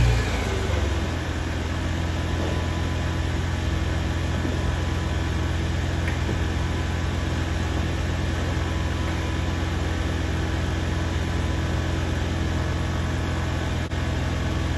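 A car engine runs steadily as the car creeps forward slowly, giving a low, even hum with a faint hiss and no other sounds.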